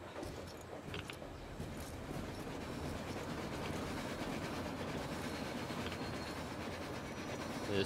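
Faint train yard rail noise from the game Metro Exodus: a continuous rolling rumble and clatter of railway wagons with occasional light metallic clicks and squeals, steady and distant, with no talking.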